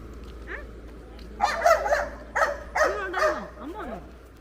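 A dog barks several times in quick bursts, close and fairly loud, with some higher yelping tones between barks.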